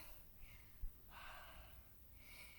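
A person breathes heavily during an exercise workout, with faint, close breaths, a short snort-like exhale, and breathy inhales and exhales repeating at a slow, uneven pace.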